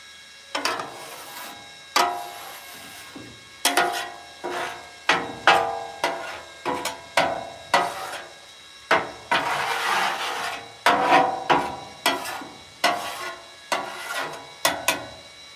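A metal spatula scrapes burnt bits off a hot griddle in a steady run of sharp, rasping strokes, each one loud and close, with a longer stretch of grinding scraping near the middle.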